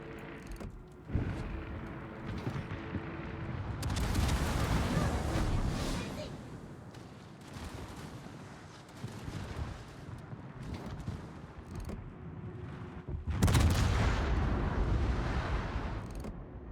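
Ship cannons fire in a naval battle game as two heavy, booming volleys roll out several seconds apart, with a voice talking between them.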